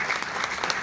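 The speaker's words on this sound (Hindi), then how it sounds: "तो एक बार बजा दीजिए जरा।" Audience clapping at a Hindi comic poetry show, a short burst of continuous applause from a crowd, steady and fairly close with no gaps.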